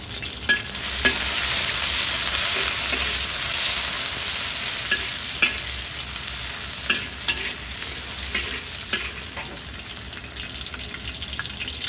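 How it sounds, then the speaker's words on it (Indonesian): Chopped large onions hit hot oil in a pan and fry with a continuous, fairly loud sizzle and scattered small pops and crackles, no voices throughout. "Bila minyaknya sudah panas, saya akan masukkan bawang besar."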